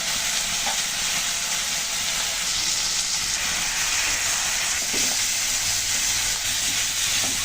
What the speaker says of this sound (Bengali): চিংড়িগুলো একদম লাল লাল করে ভেজে নেব